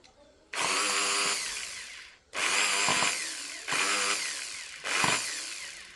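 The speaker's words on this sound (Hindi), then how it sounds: "ये कार्बन ब्रश वाली ड्रिल मशीन है" Buildskill carbon-brush electric drill machine running close up in loud bursts: a long whine, a pause, then three more runs, each starting with a surge and holding a steady high-pitched motor buzz.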